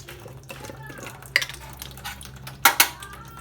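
A spoon clinks against a glass while sugar is stirred into a sweet strawberry chocolate jelly drink, with a few sharp taps standing out among softer scraping and clatter, close up and without talk.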